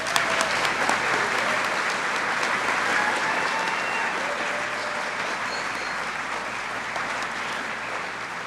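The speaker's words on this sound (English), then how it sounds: "Please join me in a round of applause for our students." Steady applause from an audience at a College of Nursing white coat ceremony, honoring the nursing students; many hands clap continuously at moderate volume, filling the hall evenly without letup.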